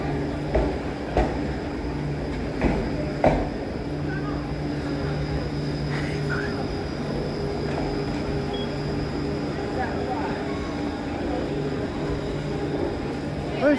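A train rumbles steadily with a low droning hum and occasional clanks at Leamington Spa, while people talk over the noise.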